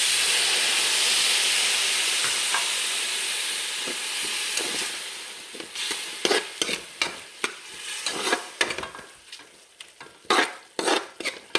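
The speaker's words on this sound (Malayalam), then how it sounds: "കുറച്ച് തിളച്ച വെള്ളം ഒഴിച്ചു കൊടുക്കുന്നുണ്ട്" Boiling water is poured into a mutton curry base of tomatoes and onions in a pan, giving a loud steady sizzling hiss that fades, followed by a series of sharp spattering bursts and stirring clatter.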